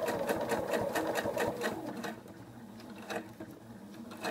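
A sewing machine stitches along a bellows fold, rapid rhythmic needle strikes in a close mechanical patter that slows and thins toward the end.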